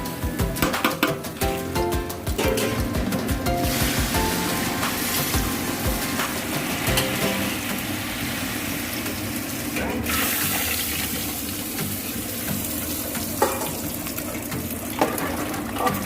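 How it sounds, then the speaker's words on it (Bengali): Water is poured into a pan of spice-fried rice and lentils, giving a continuous loud gush and sizzle over about sixteen seconds, with faint clinks of cookware. "এবার আমি শুধু জল দিয়ে দেবো।"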